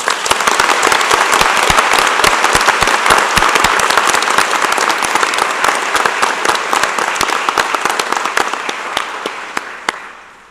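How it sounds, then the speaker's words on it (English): A convocation audience gives a loud, sustained round of applause for student award winners, dense clapping filling the hall for about ten seconds before tapering off at the end. "Audience, let's have another round of applause for our Student Award winners"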